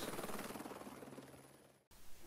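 Helicopter hovering, a loud, steady rotor chop with rhythmic pulsing that fills the soundscape, cutting off abruptly before a short, quieter resumption.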